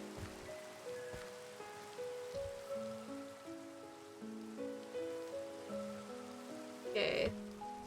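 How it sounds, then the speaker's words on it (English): Rain falling in Minecraft video game, a faint steady patter under soft background music, with a brief louder sound near the end. "Oh, it's raining."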